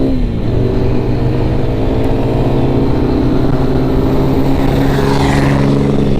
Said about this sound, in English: big diesel truck passing me.